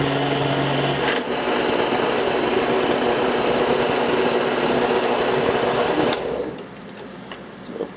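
Power drill bit spinning steadily while boring through material during a two-bar lift prop build, a loud continuous whine that cuts off near the six-second mark, leaving quieter background.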